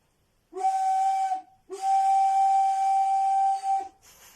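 A homemade whistle is blown twice, giving a shrill, steady tone, first a short blast and then a longer one, loud and close with a breathy edge.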